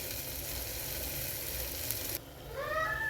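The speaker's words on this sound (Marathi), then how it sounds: "मसाला केलेला वाटण केलेलं ते तेलात परतण्यासाठी टाकलेलं आहे त्याला चांगलं तेल सुटेपर्यंत परतून घ्यायचं आहे" Ground masala paste frying in oil for a red pavta bean dish, a soft continuous sizzle that drops off sharply near the end, followed by a faint squeaky tone.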